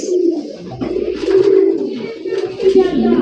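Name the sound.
pigeon cooing call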